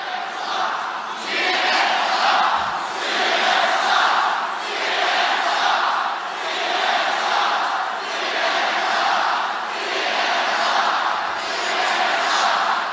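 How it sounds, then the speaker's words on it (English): A large rally crowd chants in a steady, rhythmic swell against CNN, loud and dense, with the chant rising and falling in regular waves for the whole stretch and no single voice standing out. "the crowd erupts in a chant denouncing the network"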